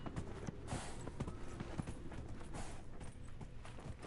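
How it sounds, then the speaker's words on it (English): Horse hooves clip-clop faintly at a steady walking rhythm in Dragon Age: Inquisition, a big mount moving along beneath a dense wash of background game ambience. "I'm a very small inquisitor, so I just take a really big horse."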